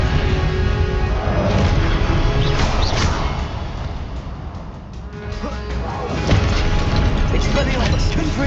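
Confringo blast spell explosions in Hogwarts Legacy, loud booming crashes layered over continuous game action, with a brief lull midway before more heavy impacts.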